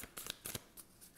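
Close, quiet riffle-shuffling of tarot cards in several quick bursts, crisp papery flutters separated by short pauses.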